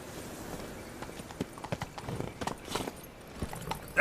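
Roach the horse's hooves clip-clopping in The Witcher 3, a steady run of close, distinct hoof strikes on hard ground that grows denser partway through, with no talk over it.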